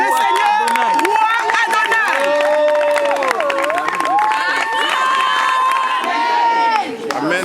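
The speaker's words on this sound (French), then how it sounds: "Est-ce qu'on peut acclamer le Seigneur roi" A church congregation at a Paris communion service cheers, shouts and applauds in acclaim, a loud sustained crowd roar with overlapping voices and clapping filling the whole stretch before easing slightly at the end.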